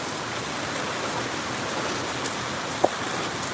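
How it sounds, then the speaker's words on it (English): Heavy pouring rain in Aklan province, Philippines, a dense continuous roar of rainfall hitting surfaces, steady and loud, with one brief knock near the end. "It is pouring. That is some serious rain out here."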